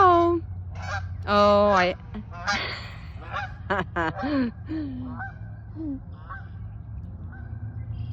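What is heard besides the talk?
geese honking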